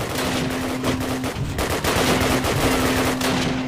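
Sustained automatic machine gun fire from the Call of Duty video game, mission Pegasus Night, rattles loud and dense throughout, with rapid overlapping bursts and no pauses.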